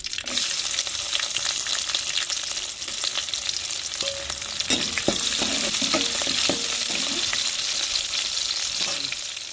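Chopped onions added to hot oil in a pan at home, a loud, continuous bright sizzle held for several seconds with scattered crackles and stirring scrapes in the middle, close up and without voices.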